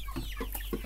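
Chickens cluck in a shed, giving a few soft, short clucks at close range against a low steady background hum.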